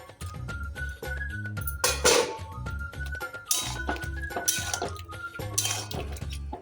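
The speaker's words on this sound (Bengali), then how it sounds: "এখন ভেজে রাখা বেগুনটা দিয়ে দিচ্ছি" Fried eggplant tipped into a cooking pot for shukto, making a series of close clanks, thunks and scraping clinks of utensil against metal, with brief bursts of sizzle and splashy wet sounds.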